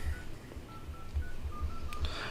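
Samsung Galaxy A54 keypad tones as a phone number is typed, a run of about ten short, clear beeps at an uneven tapping rhythm, close and alone with a faint background hum.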